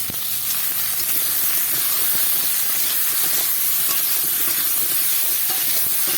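Plantains frying in hot oil at home, giving a steady, dense sizzle and hiss that stays loud and even throughout, with no voices.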